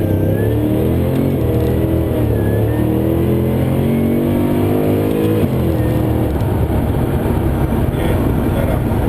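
A Holden VE Maloo ute with a 402 LS2 V8 and 4L80 gearbox accelerates hard from a gentle first-gear takeoff, its deep engine note rising loud and close, then the pitch dropping and climbing again through a gear change.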